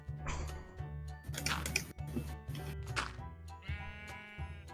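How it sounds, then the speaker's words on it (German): A sheep bleats in Minecraft, several wavering bleats in a row over a backing of rhythmic game music and clicking, fairly close and clear. "Das Schaf mäht und meckt mich an."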